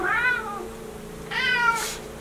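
A house cat meows twice, two clear rising-and-falling calls about a second apart, fairly close over a quiet indoor background.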